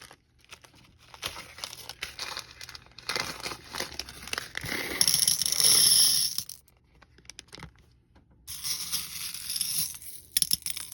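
White opaque beads rattle and pour into a container during restocking, giving dense, crisp clattering and crinkly rustling that swells and fades in bursts, close and fairly loud, with no talking.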